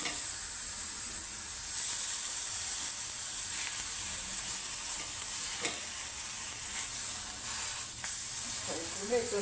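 Eggplant slices frying in oil in a pan for a spicy Maharashtrian vangi fry, giving a steady close sizzle and hiss throughout, with occasional stirring clinks and some speech in the background.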